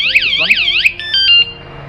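Anti-theft bike alarm sounding very loud and close: three rapid rising-falling siren whoops followed by a few sharp steady electronic beeps, alone with no talk.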